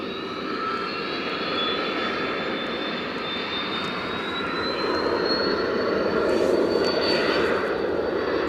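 Jet aircraft at Edinburgh Airport, including a Boeing 767 and a business jet, roaring steadily with a faint high whine that swells slightly louder toward the end, no voices.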